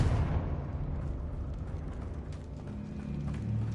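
Bombarda and Confringo spell blasts from Hogwarts Legacy, a dense, rumbling explosive roar that sustains for several seconds at high level with no talk over it.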